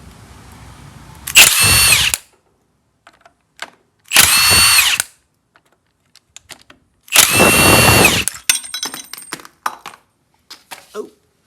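A power tool removing the 13 mm cooling-fan bolts on a VW Type 4 engine: three loud, close whirring bursts about a second each, separated by pauses with small clinks and rattles of parts.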